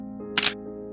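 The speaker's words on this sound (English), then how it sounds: "She raised her camera and pressed the shutter." A single camera shutter click, short, crisp and close, cuts through soft sustained music.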